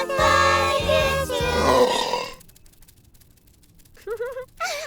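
A long, deep burp rumbles out in three pulsing chunks from a character in a children's doll play scene, loud and close, followed by a short pause and then a high squeaky voice.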